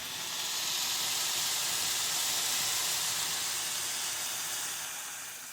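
Peas and carrots boiling in a pot on a kitchen stove, a steady close hiss of bubbling water and steam that holds evenly and fades slightly at the end, no voices.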